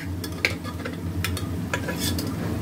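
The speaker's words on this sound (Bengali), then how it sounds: "মাংসটা দিয়ে দিলাম। এবার এটা দিয়েও অনেকক্ষণ কষবো।" Meat frying and being stirred in hot oil, a low continuous sizzle with repeated brisk scraping and clinking of a utensil against the pan, heard up close with no talking.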